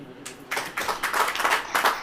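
Church congregation clapping hands during a sermon, a quick cluster of sharp claps building from near silence into dense rhythmic clapping.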